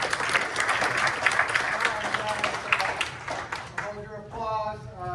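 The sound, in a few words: audience applause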